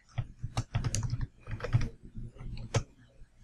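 Keys clack on a computer keyboard as a password is entered, a close, moderately quiet burst of quick irregular taps in short clusters with brief pauses between them.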